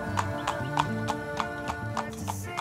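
A horse's hooves clip-clop in a steady, even rhythm on the ground of a stable, close and clear over a constant low background hum.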